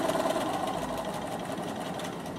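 A Bernina sewing machine runs steadily while top stitching, a close, even mechanical whir with a fast regular needle patter and no pauses.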